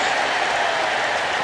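Wrestling arena crowd cheering in WWE 2K25, a steady dense roar of applause and voices that stays loud and even throughout with no pauses.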